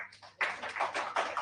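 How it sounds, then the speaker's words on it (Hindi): An audience claps in a classroom-style setting, a short burst of dense, steady applause starting abruptly and continuing at moderate loudness. "एक बार तालियां हो जाए भाई"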